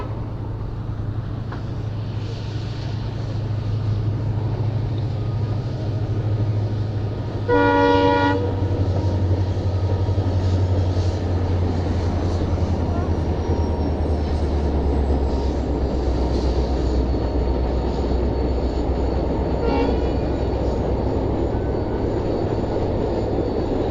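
A train rumbles steadily across the Pamban bridge at a distance, a deep continuous roll with a horn blast sounding partway through and a fainter horn later, and no voices.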